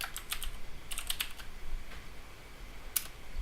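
Typing on a computer keyboard while entering IPSec VPN configuration commands, a quick irregular run of close, crisp key clicks in short bursts, with no voices.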